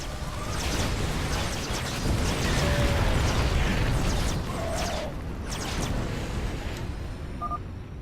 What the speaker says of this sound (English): Fire the damn warhead now!